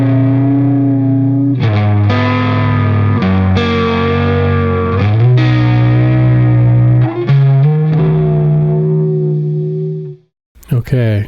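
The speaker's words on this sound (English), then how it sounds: "I can switch this from vibrato into reverb." Electric guitar played through a Vongon Ultrasheer pedal switched from vibrato into reverb: loud sustained distorted chords with wavering washed-out tails, changing every second or so, then cutting off abruptly near the end.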